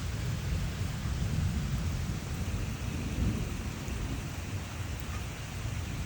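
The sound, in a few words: thunderstorm with rain in a garden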